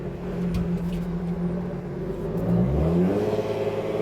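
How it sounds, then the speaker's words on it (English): A slammed Infiniti G35 sedan's engine hums steadily at low pitch, then its tone rises and sweeps upward as it revs while driving with a transmission fault stuck in fourth-gear limp mode, fairly close and continuous. "I'm gonna see if how the car drives now"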